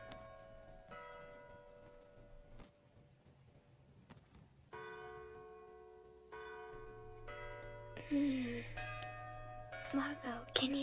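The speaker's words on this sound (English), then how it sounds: "can you hear the church bells?" Church bells ring out at night in a series of resonant strikes with long, humming decays that layer over one another, growing louder and busier toward the end.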